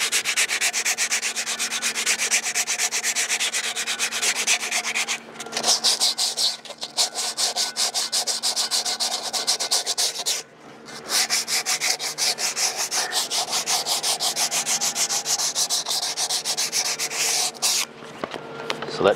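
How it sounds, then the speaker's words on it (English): A metal part of a worm drive anchor winch is sanded by hand with 240 grit sandpaper, producing rapid continuous scratchy rubbing strokes that are loud and close, with a few brief pauses. "I'm just using some 240 grit sandpaper."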